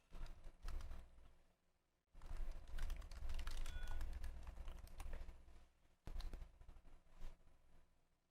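Close keys clatter on a computer keyboard while someone logs into a home network, coming in quick bursts of typing with a couple of brief pauses.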